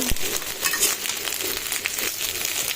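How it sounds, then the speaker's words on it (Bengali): Dried shrimp frying in a pan, a steady loud crackling sizzle with occasional stirring scrapes, heard alone without talk. "এখন আমি এখানে আর একটু ভেজে নেব এটাকে"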